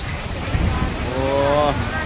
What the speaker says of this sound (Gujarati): દિલથી વરસાદ પડે, પાણી ઓવરફ્લો થઈને જાય છે.